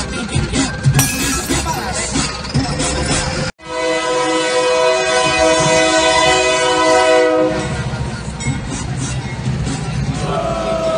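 A diesel locomotive rolls through a level crossing in Caçapava and strikes a vehicle, its loud horn blaring in sustained tones over heavy rumbling and wheel noise, close by, with a brief dropout partway through.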